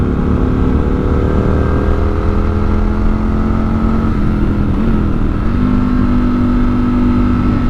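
A vehicle engine growls steadily and loudly while downshifting on the curving Route 226A Diamondback road near Little Switzerland, North Carolina, its pitch shifting as revs rise and fall under constant wind and road roar.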